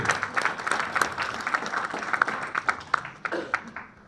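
An audience at a hypnosis show at a wellness fair claps in a moderate, uneven patter of applause, with a voice also present.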